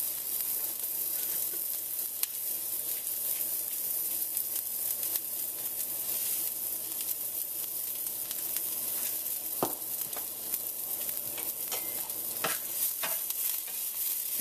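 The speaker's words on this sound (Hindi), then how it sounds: "इसे पूरी तरह से नहीं भूनना है, थोड़ा ही सा, जैसे पालक का साग खाते उतना नहीं भूनना है, थोड़ा सा भूनना।" Spinach with a pinch of salt lightly sautéing in a pan for palak raita, a steady soft sizzle with occasional scrapes and stirring clicks, continuous and fairly close, no voices.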